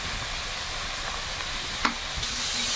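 Ground turmeric, salt, coriander and cumin fry in a pan for a crab curry, a steady close sizzle with a couple of brief scrapes as the spices are stirred, no voices.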